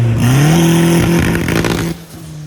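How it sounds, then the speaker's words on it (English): A 700hp all-wheel-drive budget Honda Civic engine runs loud and close, its pitch rising as it revs up, holding high, then dropping back to a lower idle-like drone. "we got Che Bella fired up, and we're gonna let her heat up, put some heat in the motor"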